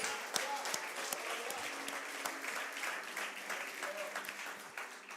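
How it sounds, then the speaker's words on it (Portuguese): A church congregation claps during a Lord's Supper service, continuous lively applause heard from a distance at low volume, with faint vocal sounds mixed in. "Aplaudimos a Jesus."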